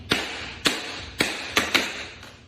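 Tap shoes strike a hard floor in a jump, jump, jump, pull back pattern: five sharp, bright clicks with short gaps, close and crisp, with no talking.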